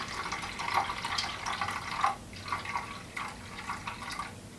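Green paint poured into a ratio measuring cup, a thin liquid stream with gurgling splashes and irregular drips, close and fairly quiet.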